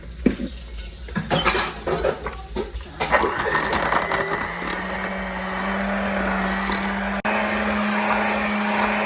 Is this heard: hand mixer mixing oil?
yes